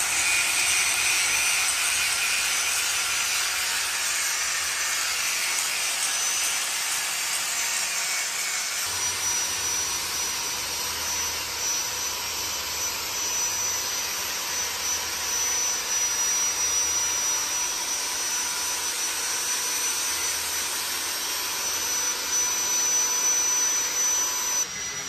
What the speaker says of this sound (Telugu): ఇక్కడ పాలిష్ పెడుతున్నాడు అనమాట గుచ్చుకోకుండా